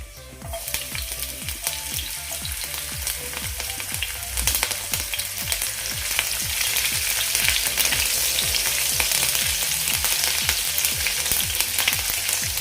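Chopped green chillies and cumin sauté in hot oil for egg anda ghotala, a steady close sizzle with rhythmic stirring strokes scraping the pan throughout, no voices.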